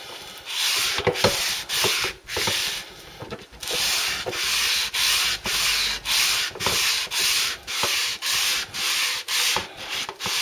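A brass clock dial is abraded by hand with fine and medium abrasive for a straight-grained finish, heard as a close, steady series of about a dozen rhythmic back-and-forth rubbing strokes with no talking.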